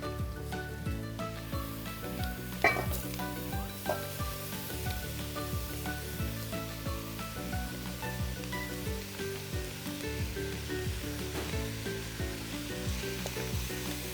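Grated papaya with spices fries in a pan for papaya thoran, a steady close sizzle with scraping stirring strokes and occasional sharper clinks throughout, no voices.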